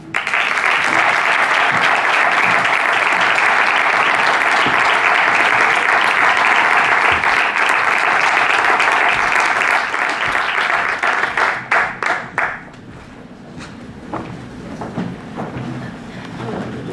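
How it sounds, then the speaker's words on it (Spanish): A conference audience gives a loud, sustained round of applause for about twelve seconds before it thins into a few scattered claps and quieter room noise. "recibimos, como les decía, con un fortísimo aplauso a don Ángel Pascual Martínez"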